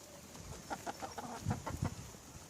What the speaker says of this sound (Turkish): Evet tavuklarımız da buğdaylarını hemen hemen yedi.